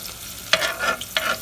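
Onions stirred into hot corn and olive oil in a pan give off a close sizzle with quick scraping strokes of a utensil, two distinct stirs over a steady frying hiss.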